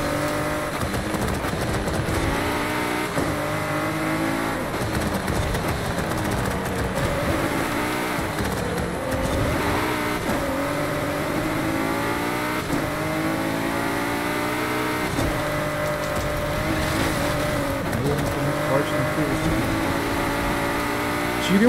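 A BMW M3 Competition engine revs and shifts through gears while racing on rally tyres over dirt in Forza Horizon 5, a continuous loud drone with rising and falling pitch sweeps.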